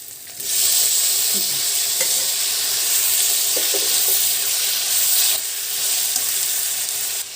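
Chicken liver fries loudly in a pan with turmeric for an Andhra-style liver fry, giving a close, continuous sizzle with occasional stirring knocks throughout.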